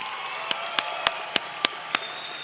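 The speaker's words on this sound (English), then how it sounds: "Ladies and gentlemen, let's give these fighters a round of applause." Crowd applause at a fight night event, a steady wash of clapping and faint cheering from the arena, with several sharp, close individual claps punctuating it at a regular pace.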